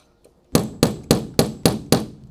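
Six evenly spaced hammer taps drive an eye bolt into a small drilled hole for a cable trellis, crisp close knocks about a third of a second apart after a short quiet lead-in.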